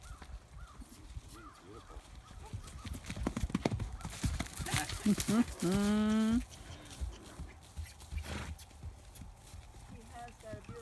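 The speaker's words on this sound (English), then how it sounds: "He has got a beautiful trot." A horse trotting, with steady rhythmic hoofbeats up close, a loud whinny partway through, and people talking over it.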